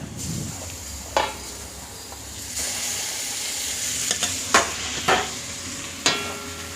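Onion, garlic and tomato frying in a pan, a steady sizzle with several distinct spoon scrapes and clinks against the pan as it is stirred.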